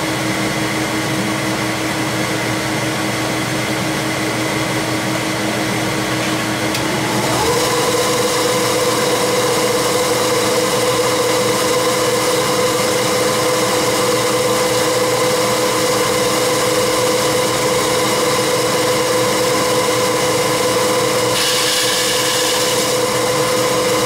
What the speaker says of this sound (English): cut the fretboard to those lines that we put on.